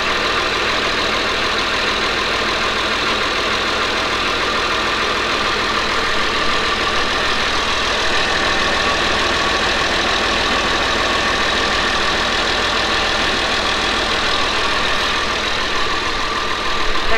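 A vehicle engine idles steadily and loudly throughout while the driver tries to get it moving in reverse, a constant broadband rumble with no speech.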